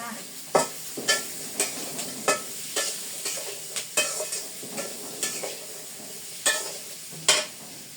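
Vegetables fry in tempered oil in a home kitchen, a low sizzle punctuated by a dozen or so sharp spatula scrapes and stirs against the pan at irregular intervals, with no voices.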